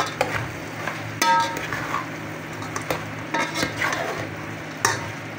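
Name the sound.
sautéing ingredients for mung bean stew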